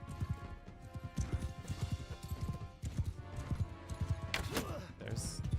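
Rapid clip-clop of horse hooves galloping in Mount & Blade II: Bannerlord, a steady loud drumming rhythm with dense game battle noise layered around it and an occasional whinny.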